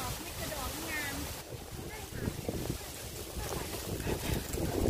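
Strong, gusty wind buffets the microphone outdoors during porcini mushroom picking, a continuous rushing roar with people talking underneath.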